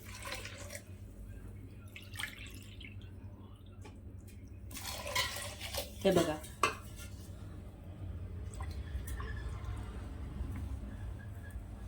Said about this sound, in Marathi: दोन कप आपल्याला पाणी घालून घ्यायचं आहे